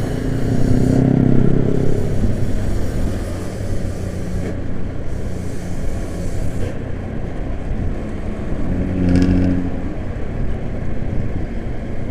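Large Yanti Group bus engine accelerating, a rough low rumble that swells early, settles, then surges again near the end, with road noise throughout and no talking.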